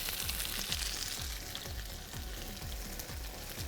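Chicken pieces for shashlik sizzle and fry steadily in hot oil in a pan, a loud, continuous crackling with no voices.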